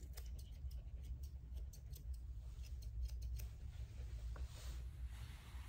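Scissors trim a Havanese dog's cowlick on top of its nose: quick, light snips in a rapid irregular series, close and quiet over a low steady hum.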